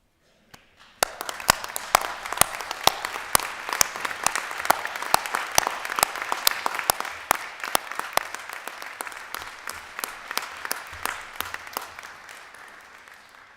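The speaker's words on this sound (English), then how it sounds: "let's give them a round of applause" Graduation ceremony audience at Ulster University Coleraine breaks into sustained applause, dense hand clapping starting abruptly after a brief pause and continuing steadily at full volume before tapering slightly near the end, with no talk over it.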